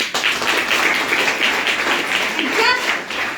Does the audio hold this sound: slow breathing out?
no